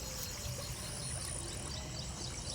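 Strong floodwater flowing across a farm after flooding, a quiet, steady rushing wash that continues without a break, heard from some distance with no speech.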